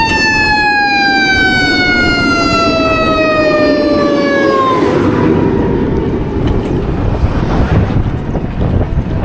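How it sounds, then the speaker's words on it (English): A fire truck siren sweeps downward in pitch over steady wind rumble on the microphone, heard from an electric bike, fading out as the truck passes by. "Comes a fire truck out of there."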